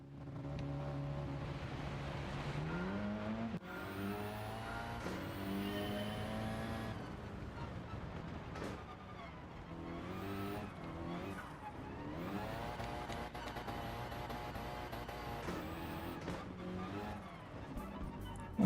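Racing car engine in Gran Turismo 7 revs and shifts continuously, pitch rising and falling through gear changes, loud and steady with no pause, no talk.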